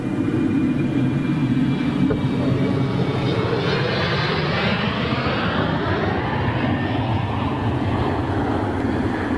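Airliner landing at Frankfurt airport, a loud continuous roar of jet engines with a broad rushing wash that shifts gradually in pitch as the aircraft passes, no voices.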